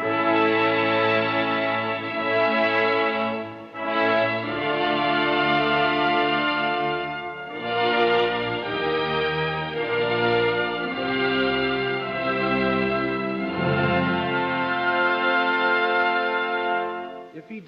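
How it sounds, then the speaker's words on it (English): Orchestral brass section playing a sustained, singing passage of Brahms, full and continuous with rich held chords and brief breaths between phrases, no talking over it. "it is the conductor's job to see that the brass sings here"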